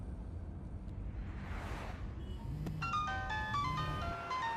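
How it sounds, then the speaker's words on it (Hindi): A mobile phone rings with a bright, repeating electronic melody that begins partway through, audible over the low rumble of a moving car. "देखो उसका फोन बज रहा है।"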